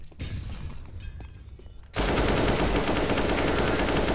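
Rapid automatic gunfire erupts in a Counter-Strike-style shooter game, starting loud and dense about halfway through after a quieter stretch of game noise, with no talk over it.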